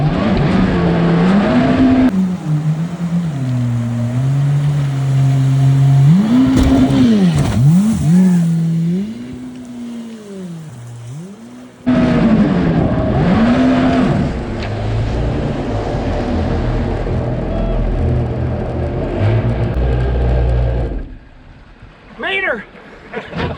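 A mini jet boat engine roars and revs hard, thrusting the boat over a shallow river jump; the loud, wavering engine tone rises and dips over talk, then cuts out sharply near the end.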